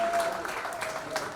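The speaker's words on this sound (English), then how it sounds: "Let's all put our hands together." Applause from an audience at a book launch fills a brief moment: dense, continuous clapping close by, with a few voices faintly mixed in.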